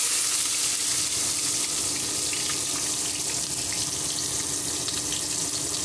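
Onions frying in a pan for khichdi, a dense continuous sizzle, steady and close with no voices.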